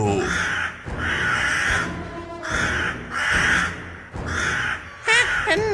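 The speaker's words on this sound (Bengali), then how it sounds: "কাকেরা বাচ্চাটার দিকে চেয়ে চিৎকার করে উঠল" Crows in a cartoon caw loudly in repeated harsh bursts, a rapid rhythmic chorus close up with short gaps between calls and a wobbly squawk at the end.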